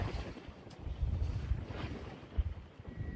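Wind gusts across a small fishing boat drifting at sea, buffeting the microphone with low rumbling bursts and a steady broadband rush, no voices.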